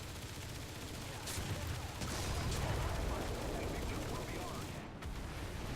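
Aircraft machine guns, Browning or Vickers, fire in War Thunder combat as a dense, continuous rattle of rapid shots. The burst holds steady at moderate loudness for several seconds.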